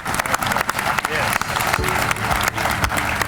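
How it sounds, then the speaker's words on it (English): Crowd applause at an outdoor groundbreaking ceremony, dense and loud clapping from many people that continues steadily with cheers and voices mixed in. "So give yourself a round of applause."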